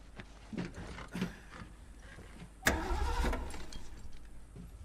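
Car engine in The Last of Us with a dead battery, heard as a sudden loud crank or turnover that rumbles for about a second and a half, then dies away, following a few soft knocks and quiet rustling.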